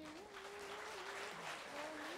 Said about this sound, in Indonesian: Tepuk tangan dumun.